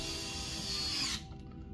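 A SKIL electric screwdriver whirs in a steady, close mechanical buzz with a ratcheting edge for just over a second, then cuts off, leaving a quieter fading hum.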